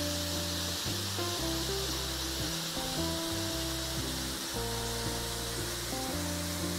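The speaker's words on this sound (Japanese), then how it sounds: "いやーね、大きい滝だね。" A steady, full roar of a large waterfall at Utsue 48 Falls in Hida Takayama fills the whole stretch without a break, with a melodic tune playing over the rushing water.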